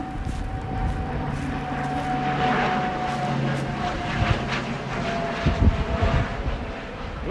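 An airplane landing in gusty winter wind in Tokyo, with a steady jet-engine drone and a faint whine over constant low wind rumble, moderately loud and without voices.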